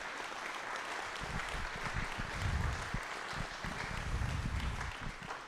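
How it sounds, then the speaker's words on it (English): Faint, steady applause from an audience at an annual meeting, a continuous far-off patter of many hands with no single claps standing out. "let's give Tony a round of applause."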